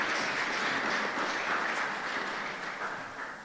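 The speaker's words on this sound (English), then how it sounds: "Let's again have a round of applause for semi-final participants." An audience applauds semi-final participants at the National Tourism Debate 2023 grand finals, a sustained wash of clapping from a large crowd that slowly fades toward the end.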